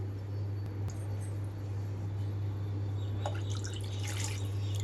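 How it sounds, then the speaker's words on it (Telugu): A large glass of water splashes and drips into a pot of rasam, quiet at first and then a brief burst of louder splashing near the end. "ఇందులోకి ఇంకొక పెద్ద గ్లాస్ వాటర్ వేసేసుకుంటున్నాను నేను ఇప్పుడు"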